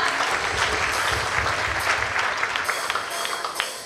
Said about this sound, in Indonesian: Mari kita berikan tepuk tangan bagi Tuhan kita yang luar biasa